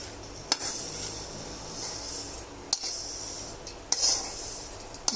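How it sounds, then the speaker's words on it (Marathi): Khoa mixture being stirred into sugar syrup for moong dal barfi, with spoon scrapes and clinks against a metal pan at about three spaced moments over a soft steady background. "हे बघा, हे सगळं मिक्स करून घेऊ त्या पाकात"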